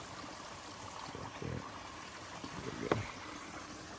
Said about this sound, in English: It's just really a pretty little creek.